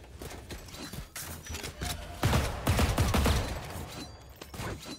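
Bursts of gunfire from sniping in Valorant ring out in busy, dense clusters over several seconds, mixed with game noise and some faint background voice chatter.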